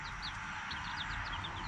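Pet birds caring for their chicks together give short, high chirps in quick clusters over a steady background hiss, fairly faint and with no speech.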